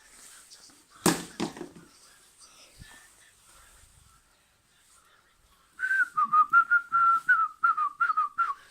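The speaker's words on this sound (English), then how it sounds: "Nice to be able to whistle without fear of retribution" A sharp crack, then quiet, then a close melodic whistle of short repeated notes with a wavering tune.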